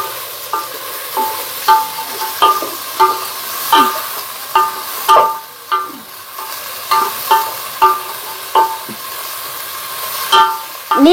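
Onions sautéing in a pan for chicken dum biryani, loud and close, with a regular rhythm of utensil scrapes and clanks against the pan over a faint sizzle, no speech.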